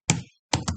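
Three crisp, close laptop keystrokes, one, then a pause, then two quick presses, loud against silence.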